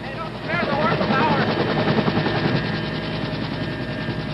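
A Vietnam-era medevac helicopter takes off under fire, its blades thumping in a steady rhythm that swells louder, with a voice speaking over the engine noise.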